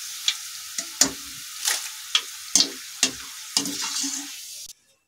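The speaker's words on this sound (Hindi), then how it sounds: "और ये हमारे चिप्स अच्छे से सारे फ्राई हो चुके हैं, इन्हें भी मैं छलनी के अंदर निकाल लूंगी।" Sliced banana chips in hot oil, heard as a series of sharp close clinks and scrapes, roughly eight irregular hits with a light sizzle between them, ending abruptly in silence.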